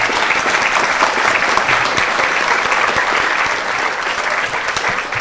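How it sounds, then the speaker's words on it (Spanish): An audience at a university session applauds two people with steady, loud, dense clapping that carries on for several seconds and eases slightly toward the end. "quiero por favor pedirles un aplauso precisamente para Josefina y para Rafa."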